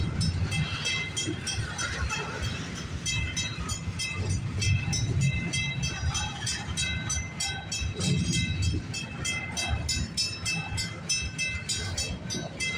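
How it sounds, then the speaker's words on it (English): A CN train rumbles and clatters steadily as it pulls out of a siding at a rural crossing at Pefferlaw Road, a loud continuous roll of wagons with metallic wheel noise throughout. "Train should be picking up speed as soon as he leaves the siding."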